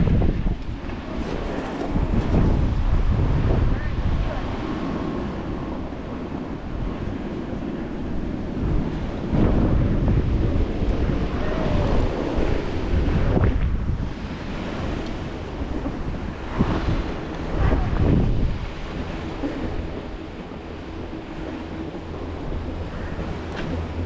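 Strong gusting wind during a windstorm in Vail, roaring and buffeting the microphone in loud surges that rise and fall, with no talking.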